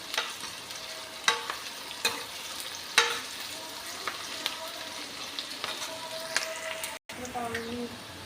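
Sliced onions frying in a pan for a ridge gourd curry, a steady sizzle broken by repeated scraping and clinking stirs of a spatula, brief cut near the end.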